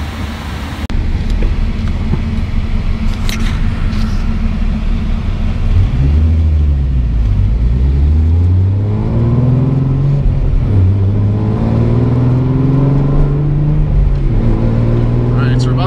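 A car accelerates onto an expressway on-ramp in Mexico, its engine revving up through several gear changes in rising and falling sweeps, loud and close from inside the cabin, with a voice speaking over it.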